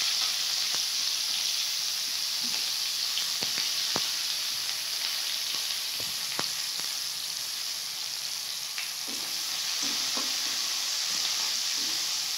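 Finely chopped onion hitting hot oil already seasoned with bay leaf and panch phoron, giving a loud, continuous close sizzle with a few sharp crackles and pops scattered throughout.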